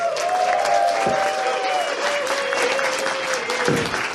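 Audience at an improv comedy show at the Fursquared 2023 convention gives a loud, sustained round of applause, even and continuous, with a held whistle-like tone running through it.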